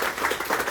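An audience in a hall applauds after a parliamentary bill on orphan drugs is announced, a brief burst of dense clapping heard at moderate loudness with no clear voices.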